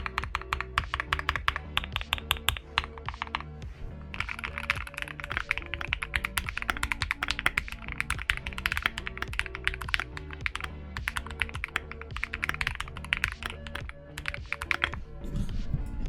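Fast, continuous typing on a mechanical keyboard modded with paper tape gives a close, dense patter of crisp clacky keystrokes with occasional heavier thunks, steady throughout with no talk.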